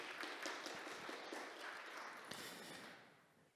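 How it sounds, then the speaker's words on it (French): Soft, dense applause from a conference audience at a business talk on company difficulties, a steady wash of many hands clapping that gradually dies away toward the end. "je vais vous demander de les applaudir tous très chaleureusement"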